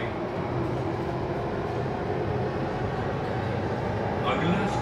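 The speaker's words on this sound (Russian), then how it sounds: "мы в метро Дели тронулись со станции" A Delhi metro train rumbles and hums from inside the carriage as it pulls out of a station, a steady dense roar with a faint squeal near the end.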